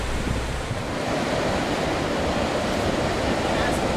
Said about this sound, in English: Driving on the beach toward Daytona